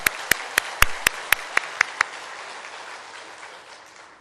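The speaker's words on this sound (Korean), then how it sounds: "박수를 하나님께 영광 돌립시다." A few sharp, spaced hand claps ring out in a church, about eight distinct slaps over two seconds, then fade into a quiet room tone.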